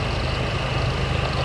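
CSX ET44AH 3324 and Union Pacific C44ACCTE 5782 diesel locomotives pass by at Elizabeth, producing a loud, close, unbroken heavy engine drone with a deep throbbing low end.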